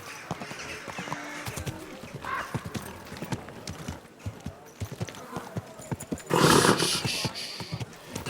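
Horse hooves clip-clop in a steady rhythm in the medieval video game Kingdom Come: Deliverance II, followed by a loud close whinny, with a voice speaking briefly.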